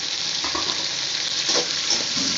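Tomatoes tossed into a hot pan with green chillies for a semiya (vermicelli) dish sizzle steadily, with soft stirring scrapes rising and falling close by; nobody speaks.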